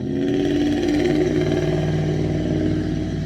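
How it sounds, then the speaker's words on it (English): A close, continuous engine rumble with a slight clatter from vehicles moving slowly in a parking lot nearby, with no voices. "we're in a parking lot, if you notice."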